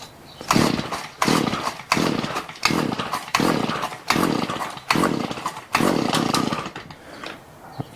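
A Shindaiwa edger engine, set with choke on and primed, runs in rough repeated surges, each loud buzzing burst dropping back briefly before rising again, failing to rev cleanly.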